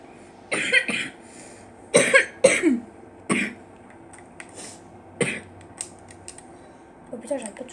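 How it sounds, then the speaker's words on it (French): Several harsh coughs, close and loud, come in uneven bursts, some in quick pairs, over a low background hum. "j'arrête pas de tousser"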